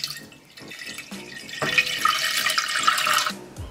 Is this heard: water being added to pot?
yes